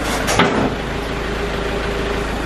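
A tractor engine catches with a short burst and then settles into a steady, close, continuous idle rumble with no voices over it.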